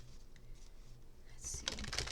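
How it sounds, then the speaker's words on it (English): Tarot cards are shuffled close by in a quiet room as soft papery riffles and taps, building to a brisker burst of crisp card noise near the end. "Let's shuffle again."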